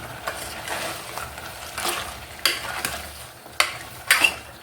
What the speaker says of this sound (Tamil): இது எண்ணெயிலே வந்துட்டு இந்த இஞ்சி பூண்டு பேஸ்ட்டு நல்லா வந்துட்டு பச்சை ஸ்மெல் போகிற வரைக்கும் நல்லா வதக்கிக்கலாம்.